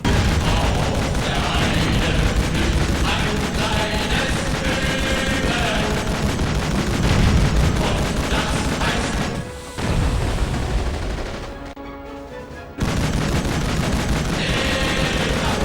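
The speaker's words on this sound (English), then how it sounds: "we can't spam the machine gun anymore. It will overheat, so we need to fire in short controlled bursts." A turret machine gun fires in the World War II shooter Call of Duty 2: Big Red One, dense loud bursts of gunfire with booming explosions and crashes throughout, pausing briefly before resuming.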